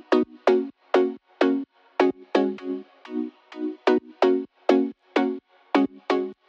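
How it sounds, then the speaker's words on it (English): A bright, buzzy synth pluck made of two detuned square waves repeats in a quick rhythmic pattern of short notes, each with a sharp attack and a slightly wavering tone. "There's also some plucks in the background of the mix that sound like this."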